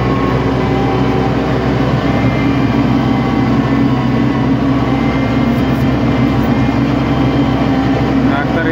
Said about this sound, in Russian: Трактор идет.